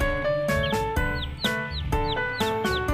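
Hybrid chicks from a black chicken crossed with a red junglefowl cluck and peep in short, repeated bursts on a farm, close by and fairly loud over a steady tonal background.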